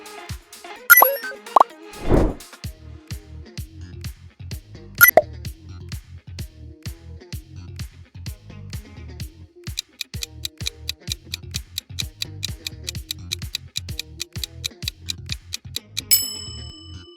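The YouTube app logo sound plays as a sequence of light plucky plops, ticks and dings, sparse at first and then in a quick rhythmic run, clean and close.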